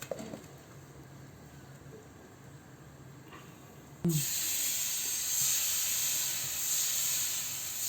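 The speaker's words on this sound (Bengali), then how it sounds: "আর একটা দিয়ে দিলাম এভাবে করে ভেজে নেব" A steady sizzling hiss of chhita ruti (jali pitha) batter frying in a hot pan starts abruptly halfway through and continues loudly, with faint clinks before it.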